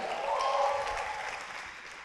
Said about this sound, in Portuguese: Queria que você aplaudisse o Senhor e desse um grito de júbilo.